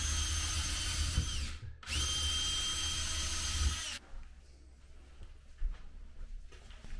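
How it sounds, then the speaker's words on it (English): A power drill with a long extension bit whines loudly through sheet metal in two long bursts split by a brief pause, then cuts off, leaving quiet room noise. "Drill bit with a long extension"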